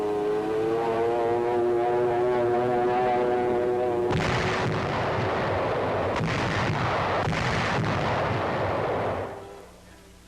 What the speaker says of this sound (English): Overhead, the Luftwaffe is cooperating, peeling off to drop countless lethal charges.